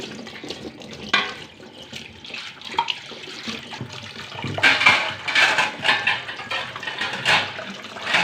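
Running tap water splashes steadily into a sink, with scattered clinks and knocks of dishes being handled and rinsed, close by and fairly loud.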